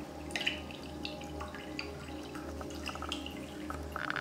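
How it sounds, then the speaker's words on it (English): Fermented rice water strained into a measuring cup for a bokashi microbe culture: soft trickling and dripping with small splashes over a low steady hum, faint and close, with no voices. "we're gonna strain this out over this measuring cup to see how much we have"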